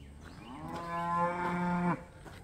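One long, loud, tonal moo from a cow on a farm, rising then holding steady for about a second before cutting off, heard close over a faint outdoor background.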